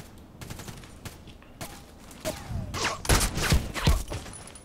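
A TKPD Storm rifle fires in a video game, a handful of spaced single shots with sharp cracks, the later ones louder and fuller, over a faint background with no speech.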